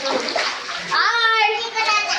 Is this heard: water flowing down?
yes